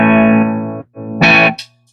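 Electric guitar through a clean Fender-style amp tone plays a sustained chord, briefly stops, then strikes another bright chord that rings out and fades.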